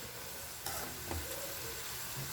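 Sliced onions frying in oil for egg biryani, a dense, even sizzle that fills the whole clip, with a couple of soft stirring knocks partway through.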